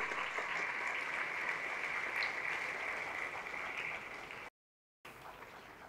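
An audience claps steadily at a Rudra puja gathering held during the month of Shravan. The sound is a dense, even patter of many hands that carries on for several seconds, breaks off briefly, then resumes.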